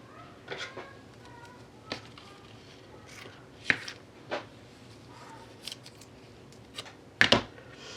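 Scissors snip lengths of green Stampin' Up ribbon for a holiday craft project, a scattered series of sharp close clicks and snips, one louder double cut near the end, over a quiet room.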